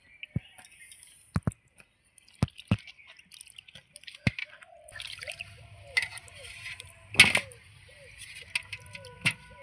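Water splashes and drips as cut eggplant, cauliflower and potato are rinsed and lifted out of a basin, with sharp, separate plops early on, then softer sloshing and a louder splash near the end.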